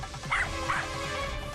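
A dog barks twice in quick succession in front of a building, sharp and close, over a low rhythmic background.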